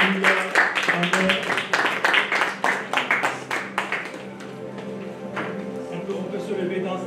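A church congregation bursts into applause and cheering for the Lord, with loud clapping that gradually fades into scattered claps while voices continue.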